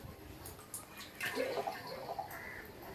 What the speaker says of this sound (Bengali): সেই জন্য আমি জল দিচ্ছি একটু বেশি পরিমাণে।